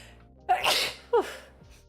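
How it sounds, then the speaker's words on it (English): Two sneezes from a woman suffering allergies, a sharp near burst followed about half a second later by a second shorter one, each with a quick inhale before, in a quiet room. "And I need to sneeze."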